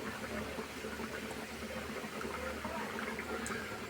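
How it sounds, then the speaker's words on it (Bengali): Potatoes boil in a covered pot, giving a steady, close bubbling hiss that carries on evenly with no talking. "ঢাকা দিয়ে আলু সিদ্ধ করে নেব।"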